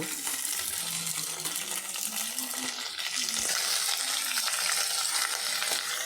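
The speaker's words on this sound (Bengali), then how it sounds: "প্যানের মধ্যে শিমটা দিয়ে দিয়েছি গরম তেলে" Green beans frying in a little hot oil in a pan, giving a steady, dense sizzle with soft stirring scrapes throughout and no talking.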